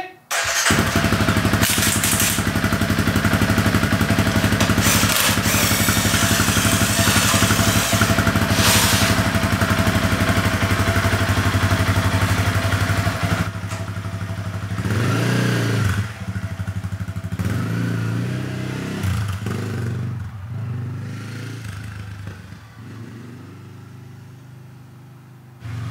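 A big-bore Honda CRF300L motorcycle, built up as an XR301, runs loud and close with a steady engine drone. Its revs rise and fall, followed by a few knocks and thuds as the bike quiets toward the end.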